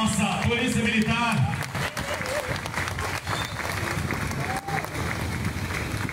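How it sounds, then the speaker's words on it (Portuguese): Crowd applause at an outdoor parade celebrating the 68th anniversary of Miguel Pereira, Rio de Janeiro, dense and steady clapping mixed with crowd noise and music throughout. "uma salva de palmas"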